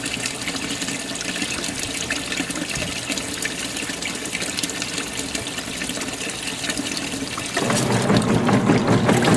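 A GE washing machine fills with water during a rinse and soak cycle, giving a steady close gushing rush that swells louder and fuller near the end, with no talking.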